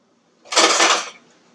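A big spoon, used as a small trowel, scoops soil while plants are repotted, making one close, short gritty scrape of about half a second, followed by a faint brief scuff.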